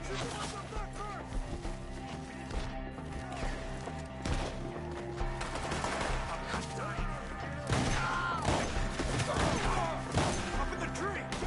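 Gunfire rings out in Red Dead Redemption 2 during a chase, with repeated shots fired at enemies up in the trees, a dense, busy stretch of overlapping bangs and thuds, with voices talking over the action.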